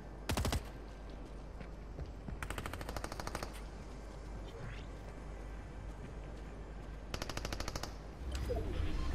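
Gunfire in the video game Fortnite comes as three sharp rapid bursts of automatic fire, loud against a steady background hum, with no talking.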